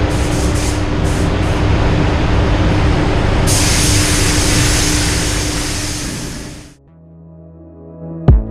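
Spray gun fitted with an RPS cup hisses in a loud, steady rush of air for about seven seconds, then cuts off abruptly, leaving a low hum and a short clunk at the end.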